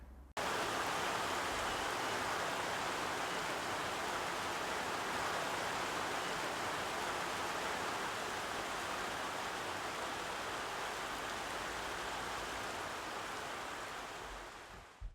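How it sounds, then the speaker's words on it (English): Rain and wind beat outside at an off-grid build site, a dense, steady hiss of rainfall that runs unbroken at moderate loudness before easing at the end. "It just keeps coming and going, raining, windy, doing my head in."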